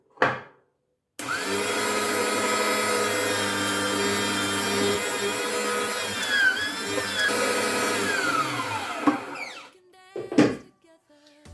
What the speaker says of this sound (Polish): teraz będziemy dalej mielić boczek